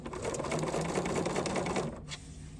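A Bernina sewing machine basting long stitches with a piping foot on skinny satin rat-tail cord, a steady close mechanical whir for about two seconds before easing off.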